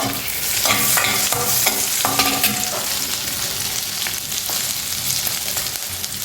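Bay leaf and green chillies frying in oil in a pan, a loud continuous sizzle with sharp stirring scrapes and clacks in the first few seconds.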